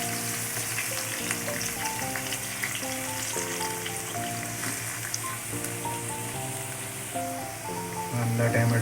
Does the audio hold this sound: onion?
yes